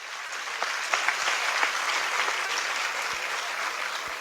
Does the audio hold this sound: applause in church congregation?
yes